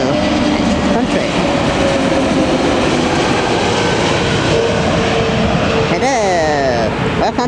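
An airplane passing low near Hatton Cross, its loud roaring engine noise filling the scene steadily among street traffic, with people talking over it.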